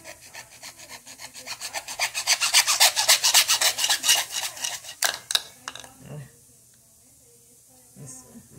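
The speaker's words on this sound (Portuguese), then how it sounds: "Vou serrar ele aqui." Small hand saw cutting through a plastic squeegee handle: a fast run of rhythmic rasping strokes that builds and stays loud, then stops, followed by a few clicks and handling knocks.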